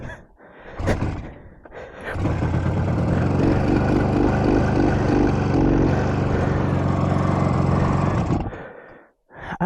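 A 1967 Yamaha YR1 motorcycle engine, started with the choke off, cranks briefly and then catches into a loud, rough, sustained running roar for several seconds before dying out abruptly.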